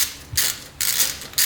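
A ratchet with a 12mm socket turns a bolt on a Toyota JZX100, making three short bursts of quick, close metallic clicking.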